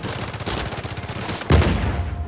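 Enemy gunfire in the Uncharted 4 video game, a rapid rattle of shots running throughout, with a louder close burst about two-thirds of the way in.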